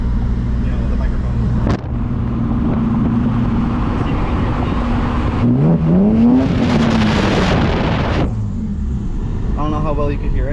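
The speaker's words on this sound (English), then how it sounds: "So the wind noise, I'm gonna stick it out the window going 30 miles an hour." Wind buffeting a GoPro Hero microphone held out a car window at 30 mph: steady, loud low rumble and roar mixed with road and engine noise, with a voice talking over it.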